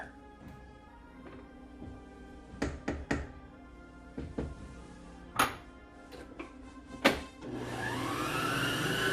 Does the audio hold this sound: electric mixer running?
yes